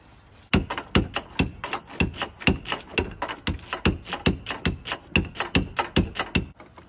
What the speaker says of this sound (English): Get a hammer and tap that column up some.